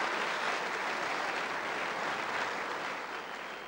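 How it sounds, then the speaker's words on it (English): Steady, dense applause from a snooker crowd at the 1979 World Snooker Championship, sustained and even throughout before easing slightly at the end. "the crowd applauding there"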